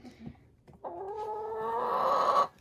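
A broody hen sitting on eggs in a backyard coop with no roosters gives a short, close vocal call that rises into a sustained, drawn-out squawk lasting about a second and a half, preceded by faint soft clucks.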